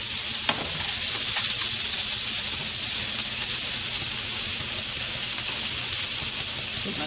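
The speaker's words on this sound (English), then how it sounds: "What I'm going to do is brown the sausage on both sides" Sausage browning in a pan gives a steady, even sizzle that runs throughout, with a soft hiss and a few faint clicks, moderately loud and close, with no talking.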